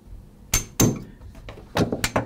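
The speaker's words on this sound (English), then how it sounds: "tap the takedown pin" A hammer strikes a punch against the takedown pin of a TM4 .43 caliber rifle, producing about six sharp metallic taps in two loose clusters with brief quiet gaps between them, close and clear.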